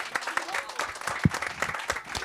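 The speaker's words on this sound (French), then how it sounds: "Exactement, on peut applaudir" Scattered applause breaks out at an outdoor quiz during a honey festival after a correct answer about a beekeeper's smoker, moderately distant, with a voice talking over the clapping.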